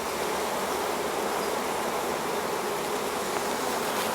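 Honey bees hum in a dense, steady buzz during the transfer of a nuc into a hive, close and continuous with no pauses or voices.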